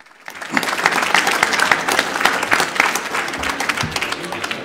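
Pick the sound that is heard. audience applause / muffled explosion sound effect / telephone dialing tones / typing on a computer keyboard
audience applause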